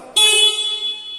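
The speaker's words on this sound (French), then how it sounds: "je vais vérifier l'avertisseur sonore" A forklift's horn blares in one sustained tonal blast during a CACES R489 category 1B pre-use safety check, loud and close, starting abruptly and holding steady for about a second.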